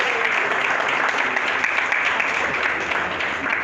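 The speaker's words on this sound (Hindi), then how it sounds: "ताली बजाती है" An audience claps at a career counselling event for top 10th and 12th class students in Bhopal. The dense, steady applause fills the whole stretch at an even, fairly loud level.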